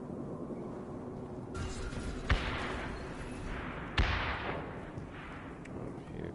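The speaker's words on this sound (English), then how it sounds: "Here, gunshots." Two sharp gunshot-like cracks stand out over a low, busy Mass Effect 2 game soundscape with whooshing bursts, fairly quiet overall and without talk.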